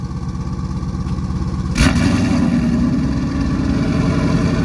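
A twin-turbo Hellhorse Performance Mustang with a Corsa active exhaust and X-pipe rumbles at idle, then jumps into a louder, deeper, slightly tractor-like drone after a sharp blip partway through, with no talk.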